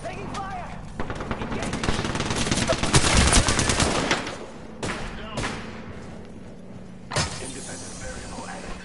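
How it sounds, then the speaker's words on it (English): Bursts of automatic gunfire and rapid shots from a tactical shooter video game, loud and dense in the middle of the stretch, with a sharp shot near the end, while players talk over it. "Taking fire!"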